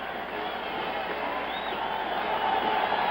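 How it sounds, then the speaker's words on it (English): A stadium crowd at a 1972 New York Jets at Oakland Raiders Monday night football game gives Joe Namath a standing ovation: a steady, dense roar of applause and cheering that swells slightly toward the end, with no clear talk. "Their fans are giving him a standing ovation."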